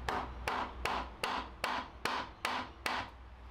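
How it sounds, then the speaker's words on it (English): A hammer taps the starter out on a 2007 Harley road bike, making eight sharp, evenly spaced metallic knocks. Each knock is close and distinct, with a brief ringing decay. "just tap this out, tap the starter out"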